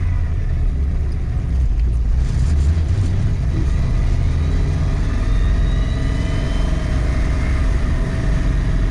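A 1966 Mustang with a fresh Blueprint 347 stroker engine rumbling loud and close while driving, a continuous deep drone with a shaky, rattling edge and a faint higher whine riding on top.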